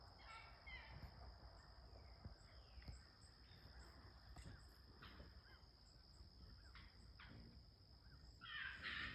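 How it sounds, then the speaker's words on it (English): Crows cawing in agitation somewhere outdoors, distant and faint over a steady hiss of insects and background noise, calls recurring through the stretch. "The crows were upset about something."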